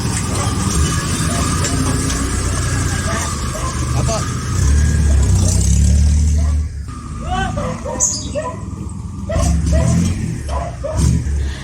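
A jeep loaded to the roof with ready-to-lay quail pulls up on a road in the Philippines, steady engine rumble under people talking, with dogs barking and yipping intermittently nearby.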